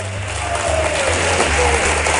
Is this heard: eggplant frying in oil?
no